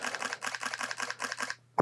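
A camera shutter fires in continuous drive mode, about nine rapid evenly spaced clicks in a steady burst, close and crisp, stopping abruptly followed by a brief handling thump; no voices.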